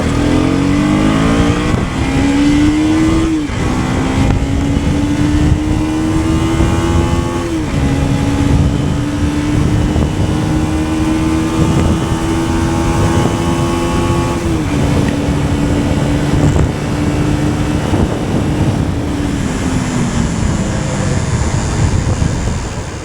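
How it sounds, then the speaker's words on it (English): A KTM Duke 250 gen 3 motorcycle engine revs hard through its upper range while riding, loud and close, the engine tone climbing and stepping through several gear changes over a continuous roar. "So let's just rev it out a bit and see how it feels."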